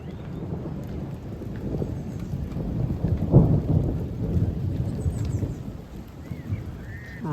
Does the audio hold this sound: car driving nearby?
no